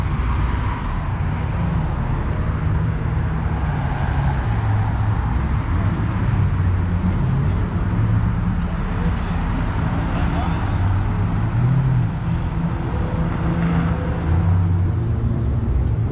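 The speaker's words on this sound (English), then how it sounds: "Cars are starting to come back out on Woodward." Steady roadway rumble of cars cruising along Woodward, a continuous low engine and tire drone from passing vehicles with no distinct pass-by peaks, heard from inside or beside a moving car.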